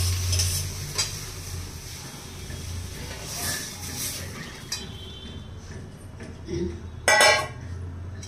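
Sizzling tempering being poured and stirred into dal, a close hissing sizzle with spoon scrapes and a few clinks of metal utensils, ending in a sharp burst of clatter.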